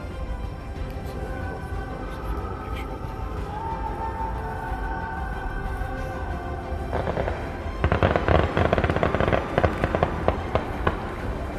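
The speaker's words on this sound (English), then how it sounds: "the national anthem, and of course there were fireworks" Fireworks crackle and pop in the distance at the start of a Run Disney marathon, then a denser, louder burst of rapid crackling bangs takes over near the end.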